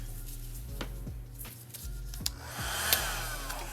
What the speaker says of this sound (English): I'm using my flower blow dryer